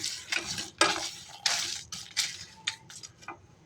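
Dry spices for Telangana-style mutton masala are stirred in a pan, a spatula scraping and clinking against the metal in irregular strokes, close and alone with a soft sizzle beneath.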